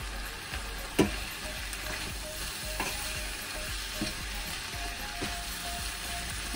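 Baked rice with chicken mixture stirred in a pan, soft steady sizzling with a few spoon knocks and scrapes, fairly quiet and close, no talking.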